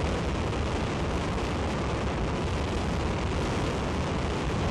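A five-segment solid rocket motor, the DM-1 for the Ares I rocket, roars in a static test firing: a dense, steady, broadband thunder of loud rumbling exhaust noise that stays constant throughout, with no voices over it.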